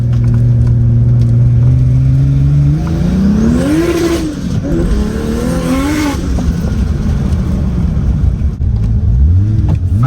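Porsche 964 Turbo with reduced boost pulls hard on a test drive, its engine note climbing steadily, dipping at shifts and surging again, loud and close from inside the car with no talk.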